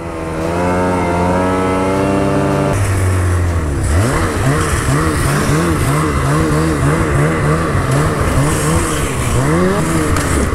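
Snowmobiles run loud and close along a mountain trail, engines droning steadily and rising and falling in pitch through repeated revs, with no talk.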